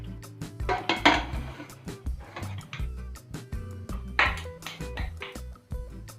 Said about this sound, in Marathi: मिश्रणाचा डबा ठेवायचा आहे ढोकळ्याचा आणि वरून कुकरचं झाकण लावण्याआधी कुकरची शिट्टी आपल्याला काढून घ्यायची आहे।